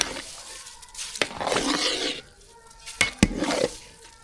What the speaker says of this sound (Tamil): எல்லாத்தையும் சேர்த்து இப்போ கலந்து விட்டுடலாம்